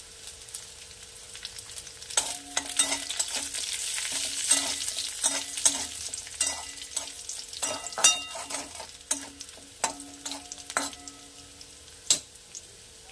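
Two dried red chillies fry and are stirred in hot oil with garlic in a pan for Bengali bethua greens. A constant low sizzle carries bursts of close, crisp spatula scrapes and taps at an uneven rhythm.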